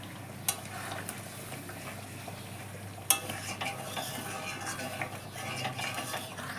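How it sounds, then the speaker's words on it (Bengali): Milk poured into chicken sundari simmering in a pan, then stirred, gives a steady close sizzle and bubbling with scraping spoon strokes and a few sharp utensil clinks against the pan. "এবার আমি লাস্টে এই দুধটা"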